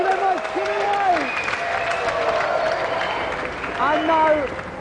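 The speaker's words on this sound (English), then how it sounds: "Another round of applause, thank you very much, Jimmy White!" A studio audience at a televised video-game show applauds a snooker shot by Jimmy White, a steady patter of clapping beneath a presenter talking over it.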